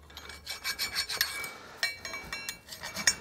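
A hand file rasps over a BMW X5 brake caliper carrier in quick, close, rhythmic scraping strokes.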